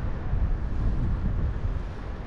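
Steady roaring wind rushing over a paraglider flying into a headwind off the western slope of Demerdzhi mountain, a dense, continuous low buffeting that fills the whole span without voices.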